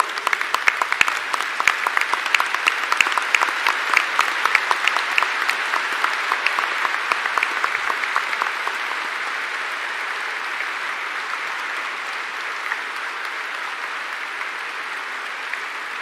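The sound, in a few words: audience applause for the Vice President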